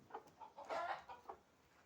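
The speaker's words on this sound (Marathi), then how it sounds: "आज आम्ही कोंबडी बसवणार" A hen about to be set on eggs clucks in a short series of soft, rhythmic clucks, with a louder burst in the middle, close by and with no talking.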